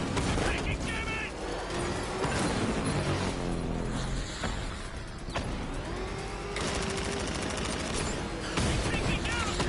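In the Batman Arkham Knight video game, enemy gunfire bursts in rapid fusillades amid mechanical clatter and dense effects, with game voices shouting over the continuous, loud action.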